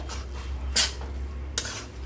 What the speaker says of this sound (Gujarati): હવે આ બધું મિક્સ કરી લેવાનું.